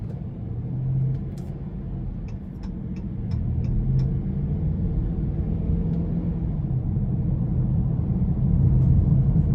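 A 2021 Chrysler 300 S with the 5.7-litre V8, in sport mode under light throttle, gives a steady low engine rumble with road noise that swells slightly toward the end, with no talking.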